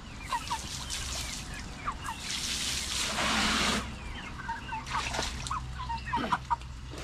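Backyard chickens cluck outdoors in short scattered calls, and a brief rush of running water sounds midway through. The calls stay at a moderate distance.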